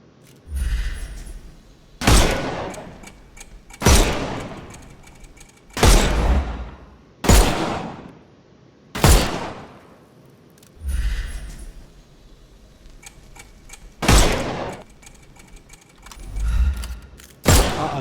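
Gunfire in Sherlock Holmes Chapter One video game as enemies' armour is shot off: about ten sharp, loud single shots spaced one to two seconds apart, each with a short ringing decay, no talk.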